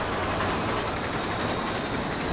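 A train rushing past in the Resident Evil 6 video game, a dense, steady roar of rumbling noise that stays loud and close throughout, with no voices.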